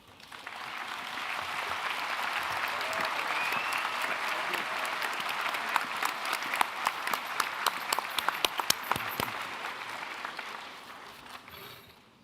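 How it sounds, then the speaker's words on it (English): Sustained audience applause for medical students at a white coat ceremony, swelling from quiet to a full, dense roar of clapping, then a few sharp nearby claps standing out before it fades away. "Let's give our students one more round of applause."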